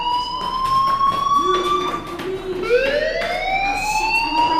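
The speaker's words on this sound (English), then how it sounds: "do you hear that fire alarm? That means you should be outside." Fire alarm in the video game Life is Strange, a loud, steady electronic siren tone that holds its pitch, then sweeps upward partway through, sounding close and alone without talk.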